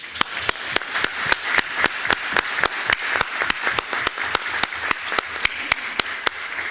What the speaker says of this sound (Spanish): quería proponer un aplauso para todos los funcionarios y personal que ha apoyado en este accidente